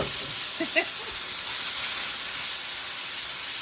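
Garlic hits a hot pan for General Tso chicken and sets off a steady, bright hiss of sizzling oil, with a faint clink near the start.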